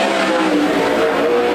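Sprint car racing at Willamette Speedway during a World of Outlaws event, with the engines' loud, sustained high-pitched roar holding steady and continuous throughout.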